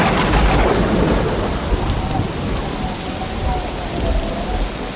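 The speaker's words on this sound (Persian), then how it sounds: "هوا سرد و طوفانی بود." Cold, stormy weather: steady heavy rain pours down on surfaces while low thunder rumbles through, loud and continuous for the whole stretch with no voices.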